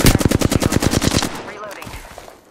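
Automatic weapon fire in Apex Legends, Season 17, playing as Ballistic: a loud, rapid burst of about a dozen close shots, then a decaying tail with faint game effects.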